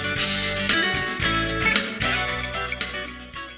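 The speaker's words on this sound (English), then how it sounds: "Here's the most typical type of on-hold music that you'll hear." Typical on-hold music on a business phone line, a steady instrumental loop with sustained chords and a bright melody, playing continuously at moderate level with no voices.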